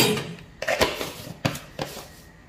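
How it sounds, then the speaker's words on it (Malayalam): A spoon scrapes and clinks against a pan while a sweetened mung bean and milk mixture is stirred, a few distinct knocks and scrapes at irregular intervals, close by with no talk. "ഇളക്കി കൊടുത്തോണ്ടിരിക്കണം, പെട്ടെന്ന് കട്ട പിടിക്കും. കൈവിടാതെ നമുക്ക് ഇളക്കി കൊടുക്കാം."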